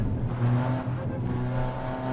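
Race car in Gran Turismo 7 on the Eiger Nordwand circuit downshifting under braking, engine note stepping through gears in a brief close burst with no talk.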